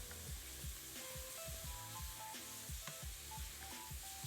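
Pork frying in a pan of hot oil with ginger, giving a steady close sizzle with scraping stir strokes and light clatter throughout.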